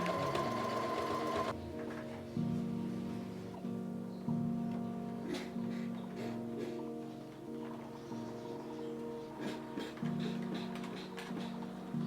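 A sewing machine stitches together the vertical seams of a velvet jacket in steady bursts, its motor humming on and off at close range with no talk.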